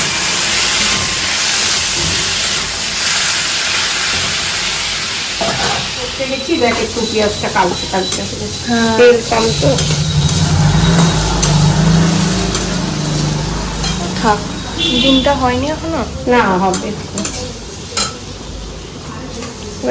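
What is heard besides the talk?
onions and vegetables frying and sizzling in a pan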